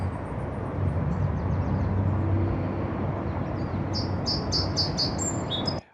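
Songbird singing outdoors in the Northern California hills, recorded in mono over a noisy background: bright chirps and phrases repeating near the end, over a constant hiss of ambient noise.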